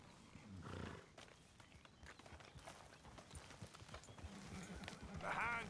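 A horse in Red Dead Redemption 2 clops its hooves in a soft, steady rhythm and snorts or whinnies near the end, with brushing sounds at low volume under background ambience.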